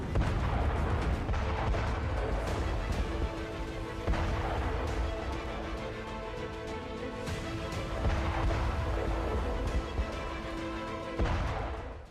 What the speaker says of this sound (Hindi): खुले मैदान में बारूद बरसा रही है, टारगेट को ध्वस्त कर रही है, युद्धाभ्यास कर रही है, मिसाइल दाग रही है